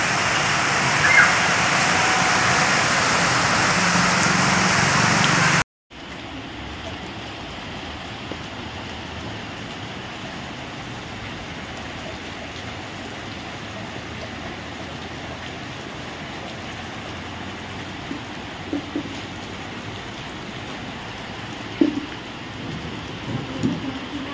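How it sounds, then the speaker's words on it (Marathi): Steady heavy rain pours throughout, a dense continuous hiss with a brief cutoff early on, faint low rumbles suggesting distant thunder. "खूप पाऊस आहे आणि विजा सुद्धा कडकडत आहे."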